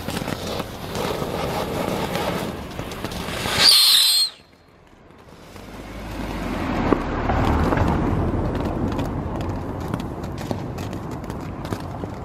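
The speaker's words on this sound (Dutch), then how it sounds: "ik ga nu naar buiten om alvast wat vuurwerk af te steken" Fireworks set off outdoors on New Year's Eve: a sharp whistling shriek and a loud burst, then a sudden drop to quiet before a crackling, rumbling rise of distant explosions continues to the end.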